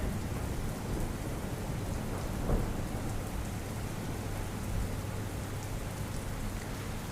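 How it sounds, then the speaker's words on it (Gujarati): Heavy monsoon rain pours steadily in Jam Raval near Dwarka, a dense continuous hiss of drops on surfaces with a low rumble of thunder underneath throughout. "મેઘરાજા અહીંયા કોપાયમાન થઈને વરસી રહ્યા હોય તેવી સ્થિતિ છે"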